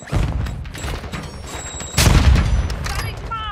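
A grenade explosion and gunfire in the Warzone video game, with steady shooting under a voice, then a loud blast near the two-second mark and more shots trailing after.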